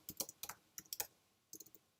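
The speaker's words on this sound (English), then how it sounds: "I was going to start typing this." Keys on a computer keyboard clicked in quick, uneven bursts of a few strokes each, with short pauses between, close by and fairly quiet in a still room.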